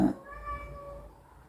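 A pet cat gives one short, clear meow indoors, fairly close but soft, followed by quiet.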